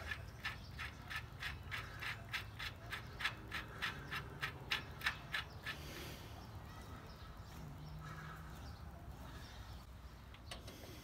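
A ratchet tightens castle nuts on a 1956 Pontiac, giving a rapid, even run of clicking strokes that slows and fades into quieter scattered clicks against a low mechanical hum.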